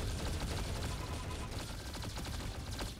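Rapid gunfire from the Roblox game Arsenal, a dense continuous fusillade of overlapping shots and bursts filling the whole stretch at steady loudness, with no talk over it.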